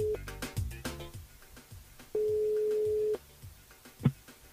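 A telephone call to a radio show's listener line rings out, a steady electronic tone holding for about a second amid studio clatter and brief background sounds.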